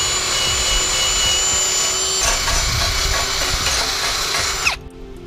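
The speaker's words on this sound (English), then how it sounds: "Still just have to use the wire wheel and clean out these bushing holes a little bit more" A power tool spins a wire wheel to clean out suspension bushing holes on a Nissan 200sx, a loud continuous whirring grind with scratchy contact that winds down abruptly at the end.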